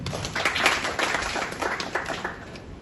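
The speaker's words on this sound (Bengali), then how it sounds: "সেজন্য আমাদের ফাউন্ডার রিয়াজ উদ্দিন ইরফানের জন্য সকলে একটি জোরে করতালি।" Applause for the founder at a Bangladeshi student association seminar, a steady patter of many hands clapping at moderate volume throughout, with faint voices underneath.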